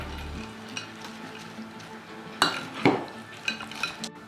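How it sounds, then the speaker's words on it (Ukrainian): A salad of meat, beans and croutons is stirred with a spoon in a bowl, giving close scraping and stirring with a few sharp clinks of utensil against the dish and no talking. "І також перемішуємо."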